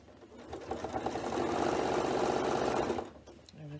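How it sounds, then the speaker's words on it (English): A sewing machine stitches around the edges of a fabric bag, its close, steady motor whir rising quickly, running continuously for about two and a half seconds, then stopping abruptly. "Keep your edges even and carry on stitching all the way around."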